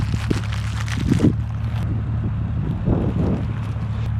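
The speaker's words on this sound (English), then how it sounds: "just when it gets started, you gotta get the wind" Wind buffets the microphone outdoors on a snowy Montana Christmas tree hunt, a loud rough rumble that rises and falls over about four seconds, with no one speaking.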